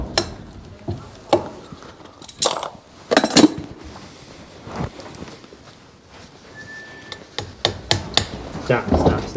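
A farrier drives nails through a horseshoe into a horse's hoof, giving sharp, irregular metallic hammer taps, some in quick pairs, close by with quiet handling noise between strikes.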